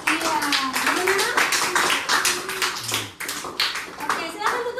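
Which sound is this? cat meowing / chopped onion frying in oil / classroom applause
classroom applause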